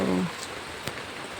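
Rain falls on a rooftop, a soft steady patter in the background after a brief voice at the start.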